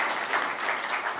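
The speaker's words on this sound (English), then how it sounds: "I got applause before I even say anything" Audience applause at a science talk on interstellar sails, a steady wash of clapping lasting about a second at moderate level, with no voices over it.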